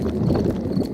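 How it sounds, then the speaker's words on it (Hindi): Daddy Pig's stomach rumbles in a camping cartoon, a low, dense, burbling growl lasting under a second, close and fairly loud, with no talk. "ये डैडी के पेट की आवाज"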